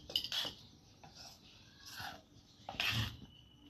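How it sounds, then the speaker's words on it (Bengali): A spoon scrapes and clinks against a bowl while malpua batter is stirred, several short quiet bursts with soft pauses between them, close and alone. "নাড়িয়ে ভালো করে এটা মিশিয়ে দিচ্ছি"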